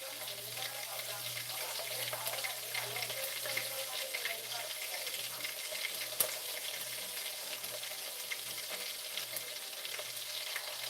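Potatoes and onions frying in a pan give a steady, dense sizzle that runs unbroken throughout, with a low hum underneath and a few faint clinks.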